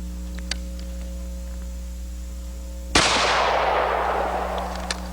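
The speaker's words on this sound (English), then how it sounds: "Let's shoot the target next to it with a 12 gauge" A single 12 gauge shotgun blast at a target, loud and close, with a sharp crack and a long decaying rumble over steady background hum.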